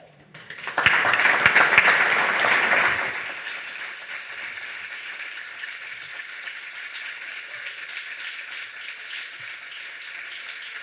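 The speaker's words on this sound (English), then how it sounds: "There's not enough applause for our opening comments from both of our esteemed panelists." An audience bursts into loud applause for two panelists' opening comments at a panel discussion, clapping hard for about two seconds before settling into a lighter, sustained patter that continues to the end.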